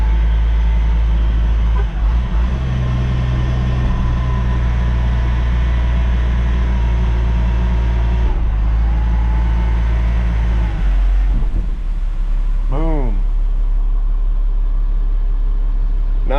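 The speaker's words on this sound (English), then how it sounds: "Now that it's in, I'll throw it back in neutral. Give her a little gas." A pickup truck hauling a load idles with a heavy, steady low rumble, then is given a little gas in neutral near the end for a brief rise and fall in engine pitch, close up with no talk.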